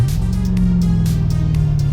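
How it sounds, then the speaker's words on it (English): A Callaway twin turbo Corvette's engine holding a loud, steady, close-up rumbling idle-to-rev drone for two seconds, deep and throbbing, with no voices. "clutch in, rev her up, clutch out, throttle"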